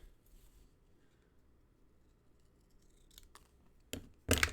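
Paper card stock is trimmed with scissors for an accordion fun fold sketch card, giving a couple of short, close snips near the end after a quiet stretch.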